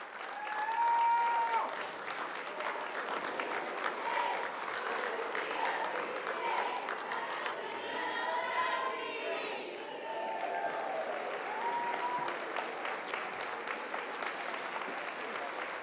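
At a sports hall of fame induction banquet, the audience gives a long standing ovation, sustained clapping with scattered whoops and cheers rising and falling, heard from some distance.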